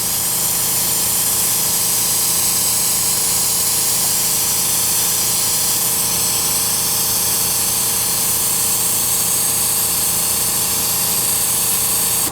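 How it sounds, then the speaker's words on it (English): An airbrush sprays red Hobby Lobby acrylic paint in a steady, close, unbroken hiss that holds at an even level for the whole stretch, with no talking over it. "I'm really kind of laying it on there, man. This airbrush isn't the best"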